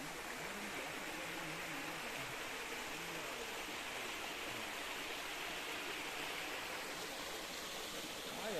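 Small waterfall at Sirsi in low summer flow, a continuous broadband rush of falling water heard close and steady throughout with no voices.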